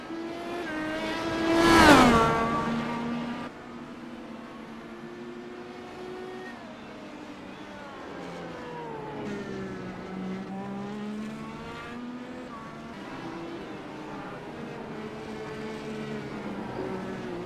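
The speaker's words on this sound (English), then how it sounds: "10 cars going around the track here, folks." Race cars circling a track during a broadcast race, one engine swelling loudly as it passes close by, then several more engines droning and rising and falling in pitch at a distance.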